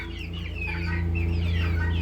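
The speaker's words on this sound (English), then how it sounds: "I have a rooster right here." Chickens clucking and a rooster calling close by, overlapping squawks over a low steady hum.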